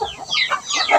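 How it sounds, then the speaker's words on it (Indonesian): Village chickens cluck at feeding time on a small farm, a close burst of several overlapping clucks and squawks lasting about a second. "di sore hari ini kita ingin memberi makan ayam"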